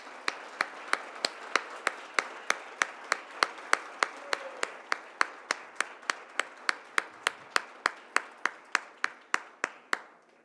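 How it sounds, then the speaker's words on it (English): Clapping at a school Hispanic Heritage Month honors ceremony comes as a long, steady train of sharp, evenly spaced claps, about three per second, fairly close and clear with no voices over them. "Let's give them a round of applause."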